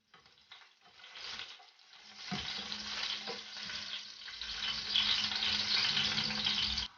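Garlic fries toward brown in hot oil, a hiss that starts soft and swells into a steady, bright sizzle, close up, with a few light clinks of stirring and no speech.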